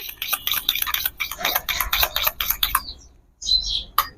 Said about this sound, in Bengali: ভালো করে এটা আমি গুলে নিয়েছি